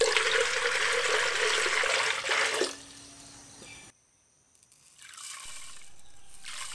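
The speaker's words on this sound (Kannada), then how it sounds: "ಇಲ್ಲಿ ಒಂದು ಪಾತ್ರೆಗೆ ನಾನು ನೀರು ಹಾಕ್ಕೊಳ್ತೀನಿ." Water pours steadily into a kitchen vessel for about two and a half seconds while making brine for an ambate pickle, then thins to a lighter trickle before a short silence and some faint handling sounds.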